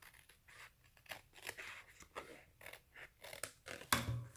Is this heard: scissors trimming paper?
yes